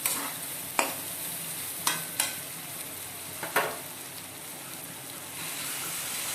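Tarka dal stirred into beaten egg in a hot pan: a steady soft sizzle with a few sharp spoon scrapes and taps against the pan, close and fairly quiet, no talking.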